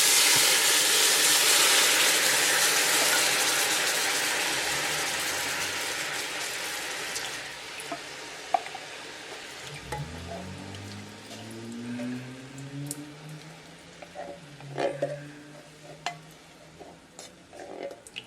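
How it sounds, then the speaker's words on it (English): Coconut milk poured into a hot pan for Thai panang chicken curry gives a loud, broadband sizzle that slowly fades over several seconds, leaving a softer bubbling simmer with occasional clinks and scraping toward the end. "I'm gonna take the coconut milk and I'm going to add it to the pan."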